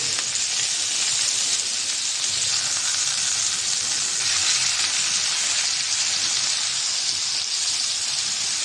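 Boal fish fries in oil in a pan, giving a continuous, even sizzle and hiss that stays close and steady throughout with no talk.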